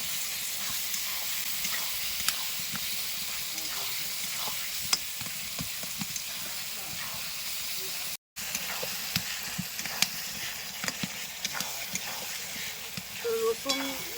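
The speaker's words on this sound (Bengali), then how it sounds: "ধনে আর জিরে বাটা আছে সেগুলো দিয়ে দেবো ভালো করে কষে নেবো" Coriander and cumin paste frying in a pan for chicken kasha, a steady close sizzle and hiss with occasional stirring scrapes, continuous throughout with a brief dropout midway.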